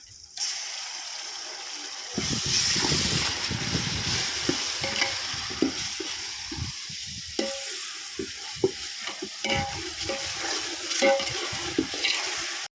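Ginger-garlic paste sizzles loudly in a hot pan, with steady frying hiss and intermittent scraping and stirring clicks.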